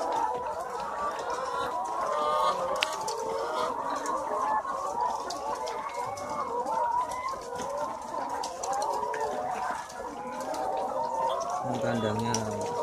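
A flock of about 400 healthy laying hens in a simple coop, their steady chorus of clucks and murmurs filling the space continuously throughout, fairly close and dense.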